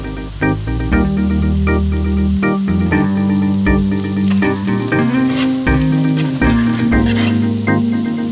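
Sausage frying in a wok for Indonesian village-style nasi goreng, a steady loud sizzle with frequent stirring clatter and scraping over continuous background music.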